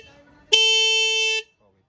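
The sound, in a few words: Tata Tiago car horns honking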